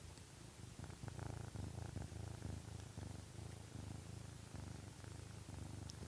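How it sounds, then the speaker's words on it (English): A cat curled in someone's lap purrs close to the microphone, a soft, steady rumbling purr in rhythmic pulses, quiet and uninterrupted by talk. "He's purring."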